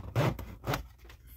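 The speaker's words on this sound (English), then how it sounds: "if you hear a bit of rustling, I'm very sorry" Packaging rustles as a Hammond collection Triceratops figure from Jurassic World Dominion is unboxed: two short, soft bursts of crinkling and rubbing with a quiet pause between them.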